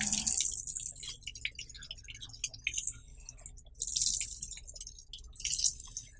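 Tap water runs and drips over the arms and elbows during a surgical hand scrub at a sink, a soft, steady trickle with irregular splashes and no talking.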